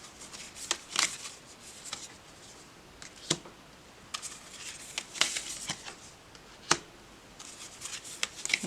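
Tarot healing cards being shuffled by hand: crisp riffling bursts and soft slaps, irregular and close, with short pauses between handfuls and no voice.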